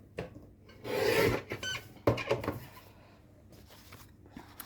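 Paper being cut to shape on a guillotine trimmer for a junk journal, heard as a couple of close, dry rasping slices with brief scraping handling noises, no talking.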